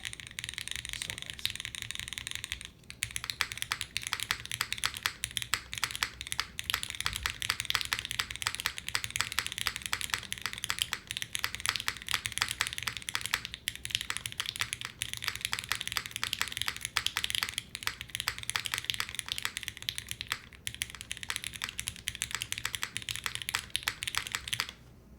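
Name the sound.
typing on a Sonnet custom mechanical keyboard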